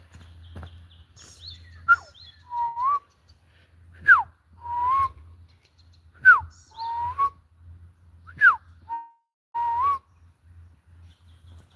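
A person whistles short rising and falling bird-like phrases in an urban forest to imitate a bird's call, repeated about five times at a steady pace, clear against a quiet low background hum.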